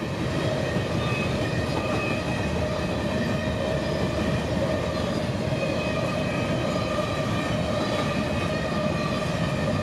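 CSX freight train Q220 led by an AC-44 locomotive rolls past in Folkston, Georgia, a steady, loud, continuous rumble of railcars with faint wheel clatter and squeal, close by and unbroken for the whole stretch, with no voices.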